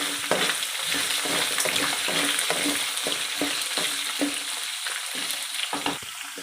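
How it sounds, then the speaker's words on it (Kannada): Onion and green chillies frying in oil in a pan with peanuts and chana dal for mango rice, a loud continuous sizzle with rhythmic spatula scrapes and stirs close by, no voices. "ಈಗ ಈರುಳ್ಳಿ ಮುಕ್ಕಾಲು ಭಾಗ ಫ್ರೈ ಆಗಿದೆ"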